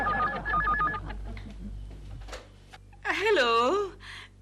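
A telephone rings with two short bursts of warbling electronic tone over background noise, then people talk in a comedy sitcom setting.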